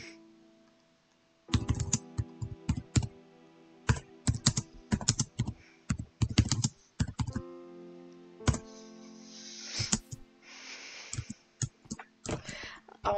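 Fingers clatter on a computer keyboard during a Minecraft session, in quick irregular bursts of close, crisp keystrokes separated by short pauses.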